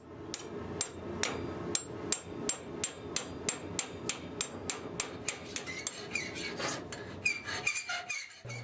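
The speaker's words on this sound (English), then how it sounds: "you use the chisel to shear out the metal in between the holes" Steady metallic hammer blows, about twenty evenly spaced ringing strikes on a chisel shearing metal between drilled holes while forging a Suffolk latch, close and loud, ending with some scraping and shuffling.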